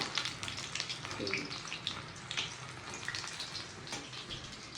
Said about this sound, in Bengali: বড়াগুলো এখন ভেজে নিচ্ছি, আর এখন গরম গরম ভাতের সাথে কুমড়ো ফুলের বড়া